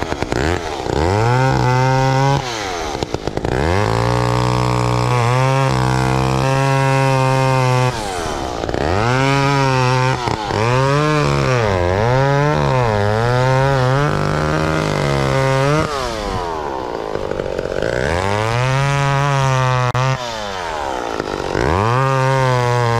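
A McCulloch Mac 10-10 chainsaw runs loud and close, revving up and down repeatedly as it bites into wood, its engine pitch rising and falling in long pulls with no talk over it.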